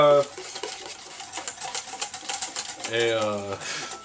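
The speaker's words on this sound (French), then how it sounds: "Là, je vais rajouter les jaunes d'œufs à ma réduction. Voilà. Et là, on va fouetter énergiquement." Egg yolks whisked vigorously into a reduction for béarnaise sauce, a steady run of quick metallic whisk strokes against a bowl, close and fairly loud, with a voice speaking briefly at the start and again near the end.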